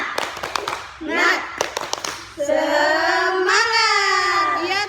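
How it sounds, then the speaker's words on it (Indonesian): Children in an elementary school setting clap in quick rhythmic bursts during a cheering chant, then a high excited voice sings and shouts over the fading claps. "Yeay, tepuk semangat."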